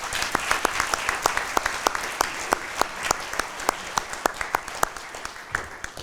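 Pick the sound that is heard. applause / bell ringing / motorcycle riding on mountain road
applause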